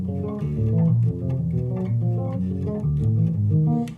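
An improvised melodic pattern zigzags in perfect fifths, with a steady run of low-pitched notes played continuously for a few seconds without talking.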